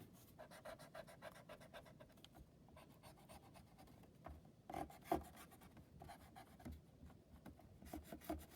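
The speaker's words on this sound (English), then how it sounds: "you are using this time right now to erase your entire grid," A pencil eraser rubs back and forth across drawing paper, clearing a drawn grid, with soft, continuous scratchy strokes close by and a few sharper scrubbing bursts.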